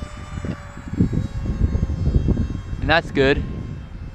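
A small FT Sparrow RC airplane drones along at low throttle, a steady buzzing motor hum heard beneath someone talking close to the microphone.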